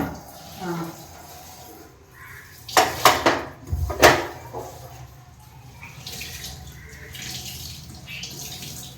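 Water runs from a tap with clattering dishes and utensils in a sink; voices speak in the background.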